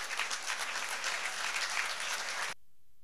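An audience applauds boys after their drama performance at a youth camp, a dense, steady burst of many hands clapping that cuts off abruptly near the end.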